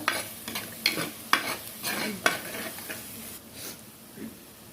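Jackfruit pieces in hot oil with a soft background sizzle, broken by several sharp scraping stirs at irregular intervals. The sounds stay fairly close and moderate in level, fading toward the end.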